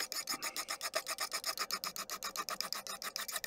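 A file rasps back and forth along the bevel of a forged knife blade in steady, rapid strokes, each pass a bright scraping burst close by, with no voices.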